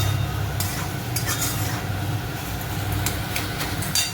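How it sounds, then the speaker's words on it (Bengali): Chopped capsicum frying in a pan gives a steady, close sizzle with a low background rumble, broken by a few scraping stirs. "এটা 2-3 মিনিট ধরে ভাজছি, যতক্ষণ না এটা একটু গলে যায় ক্যাপসিকামটা।"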